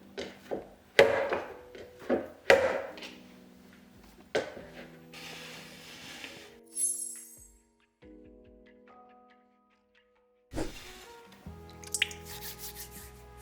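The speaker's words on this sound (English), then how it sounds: "Pull the dough up and gently slap it back into the bowl." High-hydration sourdough focaccia dough is pulled up and slapped back into a bowl several times, making soft wet slaps and squishes close by with no talking.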